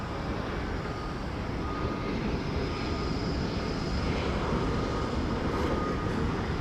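Martinair Cessna Supercargo Master cargo plane at DFW airport, a faint, steady propeller engine drone heard from a distance, continuous and even, with no talking.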